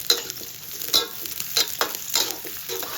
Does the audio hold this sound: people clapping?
no